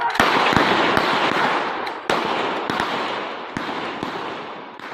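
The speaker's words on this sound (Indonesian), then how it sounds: "Polisi terpaksa melepaskan tembakan peringatan untuk membubarkan sejumlah orang diduga terlibat aksi penjarahan" Several sharp police warning gunshots crack at irregular intervals over a loud, rushing background din of a crowd being dispersed, each report close and abrupt.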